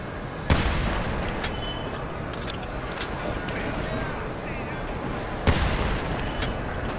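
Distant gunfire in GTA 5 Online, two separate sharp reports several seconds apart, heard over a steady background hum and game noise.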